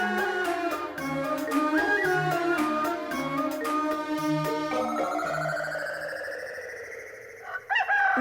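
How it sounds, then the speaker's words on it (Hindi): A rooster crows in a dubbed film scene, its long rising-and-falling call heard over a bright, steady musical background, close and loud. "मुर्गे ने बांग दे दी है।"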